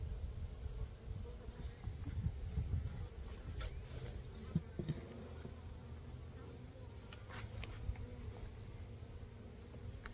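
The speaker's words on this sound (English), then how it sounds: "there is a ton of bees in here still" Dense, steady buzzing of many bees fills the clip up close, a continuous drone with occasional faint clicks and rustles, no voices.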